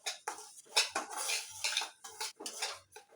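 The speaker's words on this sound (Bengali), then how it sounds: "গ্যাস থেকে নামিয়ে নিচ্ছি।" A pan being lifted off a gas stove after suji is fried golden, giving a run of sharp metallic clinks and scrapes of cookware, loud and close, with no voices.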